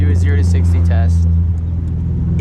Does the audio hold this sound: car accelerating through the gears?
yes